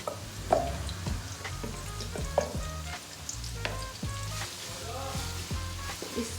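Chopped onions frying in a spoonful of ghee give off a lively, close sizzle with crackles and the clink of a spoon moving them around, and no one speaks.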